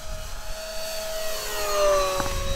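Twin electric motors of an Avios KingTwin 1700mm RC plane whine steadily at full throttle, a sustained high-pitched drone that rises slightly in pitch as the model passes, loud and continuous with no voices.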